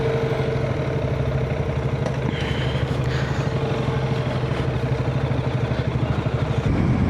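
A TVS Apache RTX 300 motorcycle engine running steadily at idle, a loud, close, even mechanical hum with a light clatter underneath.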